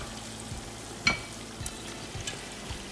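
Lamb chops being sautéed in masala for biryani, a soft sizzle with scattered stirring scrapes and one sharper clank, fairly quiet.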